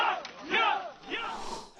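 Protesting students scuffling with police in Pristina create a short burst of crowd shouting and yelling, with several overlapping voices rising and falling.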